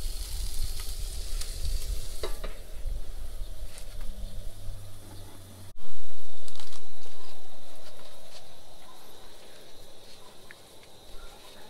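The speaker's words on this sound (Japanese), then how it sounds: "ちょっとマグロのカマは弱火で蒸し焼きチックにねしようかなと。" Tuna collar steam-frying over low heat at a garden camp gives a steady close sizzle and crackle, with birds faint behind it; after a lid-like thump midway the sizzle swells louder, then slowly fades back.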